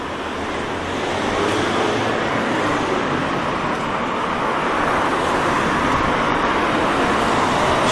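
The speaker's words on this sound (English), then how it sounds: "There's quite a few cars in the middle as well." Steady roar of cars passing through Chesterfield town centre, a dense continuous wash of road noise with no gaps, fairly loud and close throughout.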